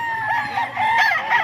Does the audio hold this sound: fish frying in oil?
no